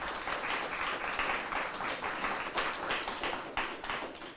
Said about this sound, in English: Please join me in a round of applause for all of our speakers here today.